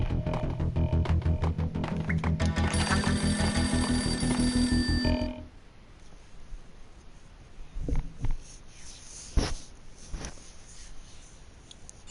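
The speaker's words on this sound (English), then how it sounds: "A beaten-up phone in the entrance hall was ringing." An old, beaten-up telephone in the entrance hall of a building in the Max Payne video game rings loudly in steady rapid bell bursts for about five seconds, then stops, leaving quiet ambience with a few faint clicks and knocks.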